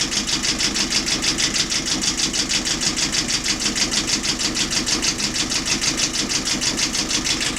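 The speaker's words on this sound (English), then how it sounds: "And again, we're just idling here." The inboard engine of a Tartan 27 sailboat idles close by, a steady, rhythmic chugging pulse that runs evenly the whole time with no talking.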